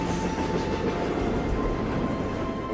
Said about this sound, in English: I just have fallen completely in love with the sound of those trains.